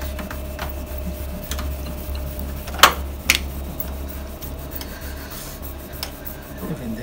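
Rag rubbed over a Data East Tales from the Crypt pinball playfield during cleaning, a soft continuous scrubbing with a low steady hum beneath and a couple of sharp knocks, no talk.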